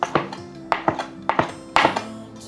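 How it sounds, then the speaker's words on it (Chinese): Knife chopping dried shiitake mushrooms into small bits on a board, with crisp sharp chops in uneven bursts of two or three, close and fairly loud, with no talk. "换一个方向切成香菇碎"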